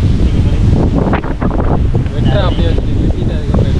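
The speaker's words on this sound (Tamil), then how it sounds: "காற்று பயங்கரமாக அடிக்குது" Strong wind roars and buffets the microphone continuously, with a person's voice partly buried beneath the gusts.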